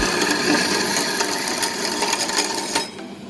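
A stainless steel bolt being cut to length makes a loud, continuous harsh grinding noise up close that cuts off shortly before the end.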